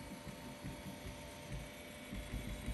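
Artillery Sidewinder X2 3D printer laying down a first layer, a steady low mechanical hum with soft throbbing stepper-motor pulses running continuously at moderate, even loudness with no talk.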